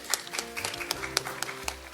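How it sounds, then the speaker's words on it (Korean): Scattered clapping from a conference audience welcoming a keynote at a biennale pre-conference in Jeju, distinct individual claps standing out over a low murmur. "큰 박수로 맞이해 주시면 감사하겠습니다"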